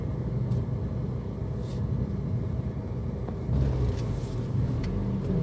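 Heavy Sunday road traffic rumbles steadily, with car engines droning close by and a vehicle audibly accelerating partway through, forming a continuous low roar.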